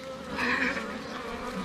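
Honeybees buzz at a hive in a dense, steady drone, close and fairly loud, swelling slightly for a moment.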